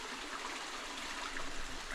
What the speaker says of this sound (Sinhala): අර එහා පැත්තෙන් තියෙන චූටි වතුර පාරක් වැටෙනවා.